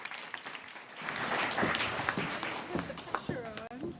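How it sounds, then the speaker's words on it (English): Audience at a Montreal forum breaks into sustained applause for a speaker being introduced, a dense wash of clapping that swells and holds, with a few voices rising near the end. "let's give a round of applause for"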